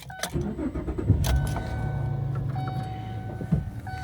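Someone climbs into a car, with key jangles, a thudding door and seat shifting up close, then a low engine idle hum settles in with chiming tones.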